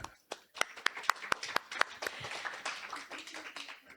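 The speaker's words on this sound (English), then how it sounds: "let's give Ashleigh another round of applause" Scattered clapping from a small open mic audience, a handful of sharp individual claps that thicken into brief loose applause, fairly close with murmuring underneath.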